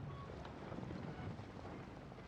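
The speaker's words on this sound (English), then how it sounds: "Are the waves here always like this?" Harbor waves in the Genshin Impact video game wash steadily against the shore, forming a continuous broadband rush with a low rumble that stays constant throughout, with no voices present.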